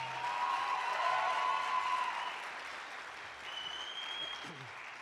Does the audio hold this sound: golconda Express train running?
no